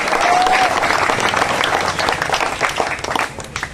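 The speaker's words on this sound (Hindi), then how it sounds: "एक बार जोरदार तालियों से उनका स्वागत करें।" A crowd at a village welcome event breaks into loud, dense applause for an arriving guest, a sustained wash of clapping with scattered voices and a brief whistle-like tone near the start.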